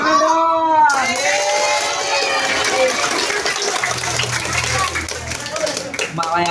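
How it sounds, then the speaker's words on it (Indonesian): During a school animal introduction session featuring a snake, a group of children claps their hands in a lively, noisy burst; voices can be heard over the clapping, with one clear voice at the start. "Tepuk tangan dong"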